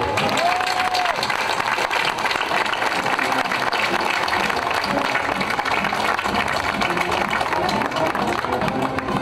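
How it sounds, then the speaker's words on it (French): Spectators at a rosière crowning ceremony in Moissac applaud four candidates with loud, continuous clapping from a large crowd, sustained and even throughout, with faint voices mixed in. "je vous demande de les applaudir."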